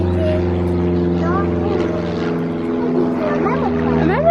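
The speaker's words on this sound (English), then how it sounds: "So I can hear an aeroplane." A small aeroplane drones steadily overhead outdoors with a low, continuous engine hum, while adults and someone talk over it throughout.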